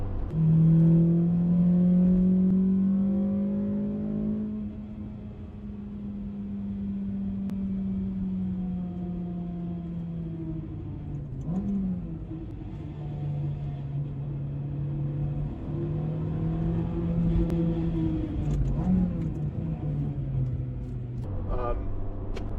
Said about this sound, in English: It's just seriously good fun to row through the gears, rev match the downshifts, get on the brakes